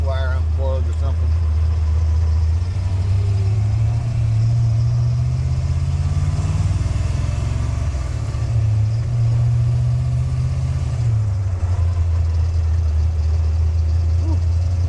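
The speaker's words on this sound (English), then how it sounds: "Got a misfire." A Foxbody Mustang engine with a misfire idles loud and close, its low rumble steady and slightly uneven throughout, with a brief rise in pitch near the middle.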